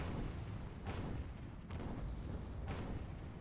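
Cannon fire in an airship battle game arrives as three distant, muffled booms spaced about a second apart over a constant low windy rumble.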